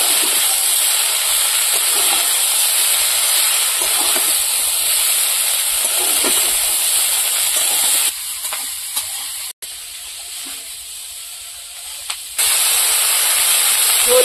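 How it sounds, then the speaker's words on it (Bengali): Malabar spinach stems fry loudly in oil in a village kitchen, a dense close sizzle and hiss with stirring scrapes, dipping quieter for a few seconds before the full crackle returns. "এবার বিটুলি নাড়াচাড়া দিয়ে নেব।"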